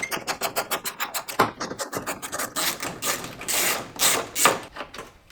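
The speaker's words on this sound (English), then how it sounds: "you need to take off these two 10mm bolts, and that will allow us to pull the whole housing off" Two 10mm bolts being loosened and backed out of a Chevy Cobalt headlight housing, a close rapid run of rhythmic ratcheting clicks that blends into scraping, rasping metal turns, with no talk.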